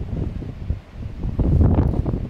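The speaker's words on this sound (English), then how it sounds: "Yeah, it's a bit windy today," Wind gusts buffet the microphone outdoors at a cookout with a low, steady rumble that swells stronger toward the end; no one speaks.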